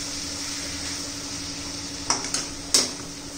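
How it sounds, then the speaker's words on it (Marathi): A lid is lifted off a pan of vegetables cooking on the stove, giving a few sharp metallic clinks over a steady soft sizzle. "आता झाकण खोलून पाहूया"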